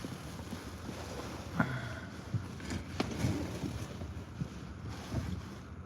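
A two-stroke outboard motor runs on a fishing boat out on Ontario water, a steady engine drone partly buried under heavy wind buffeting on the microphone.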